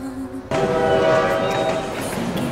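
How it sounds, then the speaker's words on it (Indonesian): A train ride in a drama scene: after a quiet half second, a loud, steady rail rumble with horn-like tones rolls in and holds close for the rest of the moment. "Mereka naik kereta"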